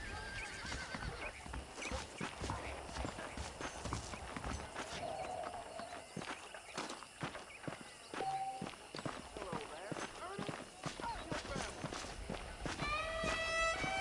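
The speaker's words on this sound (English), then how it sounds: "The horses are saddled up over here." Horse hooves clip-clop at a walking pace in Red Dead Redemption, with an occasional whinny and light ambient music in the background.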